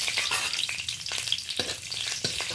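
Bay leaves, black cumin seeds and green chillies sizzle in hot oil, a steady close hiss with a few sharper crackles and spits, no voices.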